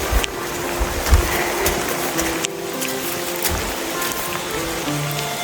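Steady heavy rain falls while someone walks a long stretch of the Camino Le Puy pilgrimage route in France, a dense, continuous wash of drops close around the listener with no voices.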